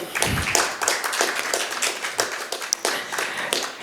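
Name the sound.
audience applause at conference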